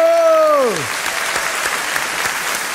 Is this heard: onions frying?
no